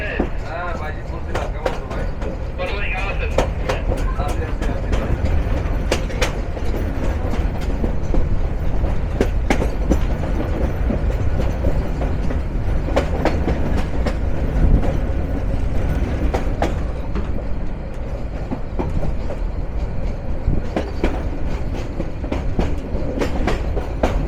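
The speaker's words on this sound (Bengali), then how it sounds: "সুবিশাল এক রেল কার ভৈরব বাজার রেলওয়ে জাংশন থেকে বের হওয়ার পথে" A long passenger train rolls out of Bhairab Bazar railway junction, a loud continuous rumble with rapid clickety-clack of wheels over rail joints, heard close and steady from on board, with voices now and then under the noise.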